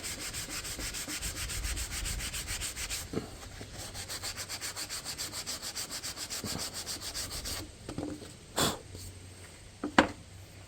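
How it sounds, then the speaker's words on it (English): Sandpaper rubbed by hand over a dark spot on a wooden deck light or wall sconce, a quiet rapid back-and-forth scratching that runs steadily, then gives way to a few separate louder scrapes. "Hit that dark spot with a little sandpaper"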